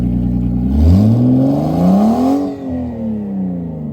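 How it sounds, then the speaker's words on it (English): A Lexus engine that was struggling to run revs up hard twice in quick succession, rising and falling, loud and close, with no talking. "it's revving up, so it's all good"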